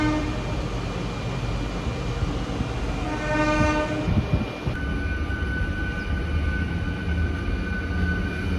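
A passenger train pulls out of Krishna Canal Junction on the Vijayawada to Guntur line, with steady rumbling rail noise throughout and a sustained horn blast in the middle.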